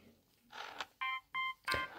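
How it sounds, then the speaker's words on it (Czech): A mobile phone ringtone chimes in three short, evenly spaced tonal bursts, moderately loud, after a stretch of quiet rustling. "No jo, mobil. Kdo mi zase volá?"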